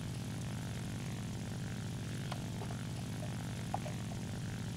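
Propeller-driven fighter aircraft engines drone in a War Thunder air battle, a steady dense roar with a few faint distant pops and cracks, no voices.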